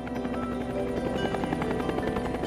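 Korean War–era helicopter in flight on a medical evacuation run, its steady rotor chop and buzzing engine drone loud and continuous throughout, with no voices.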